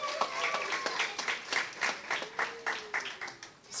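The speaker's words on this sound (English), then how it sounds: "Give them a round of applause." Applause for preschool graduates at a graduation ceremony, a small group clapping in loose bursts under a faint tone and some voices, fairly close and modest in volume.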